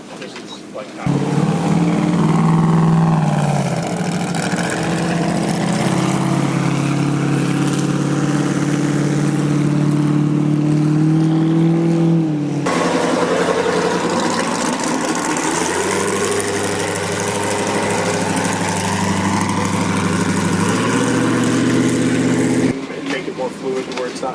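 Bryce Menzies' new big-block trophy truck engine revs hard, a loud, close, continuous roar whose pitch climbs and dips through repeated surges, with a brief break near the middle.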